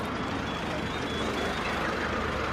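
A city bus pulls up at a stop, its steady engine rumble and road noise filling the scene with a faint high whine above, broad and continuous throughout.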